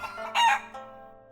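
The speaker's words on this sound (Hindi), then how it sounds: "हैट में से निकला एक मुर्गा।" A rooster crows once in a cartoon magic show, pulled from a magician's hat: a short, bright, fairly loud call that swells briefly and fades, with no talking.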